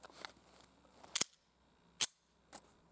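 SOCOM rifle shots fired at a steel P365 target 100 yards away outdoors: three sharp, loud reports spaced about a second apart, each a brief crack that fades quickly, with no talk.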